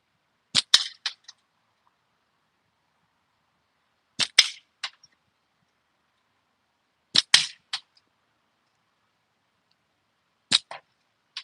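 A backyard slingshot fires at the top half of a cut can: four separate sharp snaps several seconds apart, each followed by quick rattling clicks, with silence between shots.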